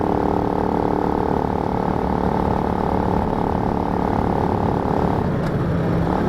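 A Honda C90 motorcycle engine runs steadily at close range after a carburetor tune, a droning mechanical hum that fades slightly near the end.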